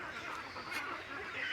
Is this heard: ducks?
yes